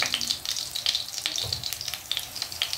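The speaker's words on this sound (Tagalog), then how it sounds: "Prito mo natin yung banana." Saba bananas frying in a pan of hot oil, with a steady close sizzle and crackling bursts.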